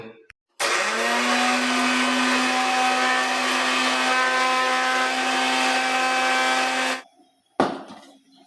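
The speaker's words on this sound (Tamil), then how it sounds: "அப்படியே மிக்சி சாரில் போட்டு நல்லா பொடியை அரைச்சி எடுத்துக்கலாங்க" A mixer grinder jar whirs loudly and steadily for about six seconds as rusk is ground into powder, then cuts off, followed by a brief clatter; no one speaks.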